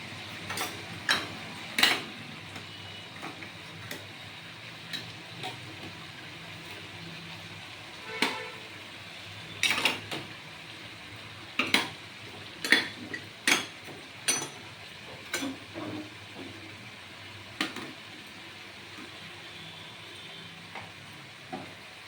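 Masala for paneer butter masala being stirred and fried in a pan, with sharp scattered scrapes and clicks of a spatula over a soft sizzling hiss, irregular and fairly quiet.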